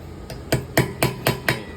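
Hammer blows on aluminium around a stripped M3 screw hole: five sharp metallic taps in an even, quick rhythm, close and distinct with no talk.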